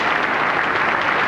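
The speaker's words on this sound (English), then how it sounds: "applause for umpire Lloyd Budd, who is going to the square leg position" A cricket crowd applauds an umpire taking his position at square leg during the 1982 Essex v Kent one-day final, with steady, dense clapping throughout.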